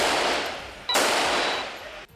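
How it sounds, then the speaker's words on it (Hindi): Gunfire during a shootout between police and a gang, a sustained burst of dense shots with a sharp louder crack near the middle, continuing steadily before cutting off. "काफी देर तक वहां गोलियों की आवाजें आती रहीं"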